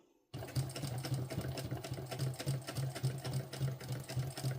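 A sewing machine starts up after a brief silence and stitches a thick seam on a fabric sling pouch, with a fast, continuous mechanical chatter heard close and steady throughout, no speech.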